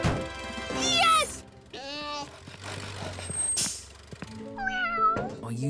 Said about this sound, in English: Oh, you silly cat, Pilchard.